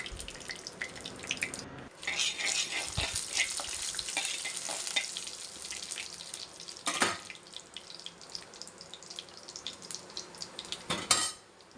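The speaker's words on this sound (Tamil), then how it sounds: "வரமிளகா, கருவேப்பிலை சேர்த்து நல்லா பொரிய விட்டுறலாம்." Dried red chillies and curry leaves sizzle in hot oil as a tempering for Tamil beef sukka, a steady close crackling fry with a few sharper pops and utensil clinks and no talk.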